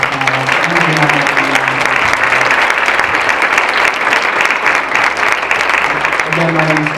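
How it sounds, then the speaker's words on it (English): Audience applause for a panel of speakers at a discussion event, a dense, steady clapping wash lasting the whole stretch, with a voice and some music-like tones faintly underneath at the start and end. "can I get a big round of applause for all of our panelists?"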